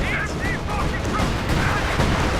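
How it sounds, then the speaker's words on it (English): Artillery barrage in the World War II strategy game Company of Heroes 2: dense continuous booms and rumbling impacts under a talking voice. "As you see, this artillery barrage is pretty, yeah."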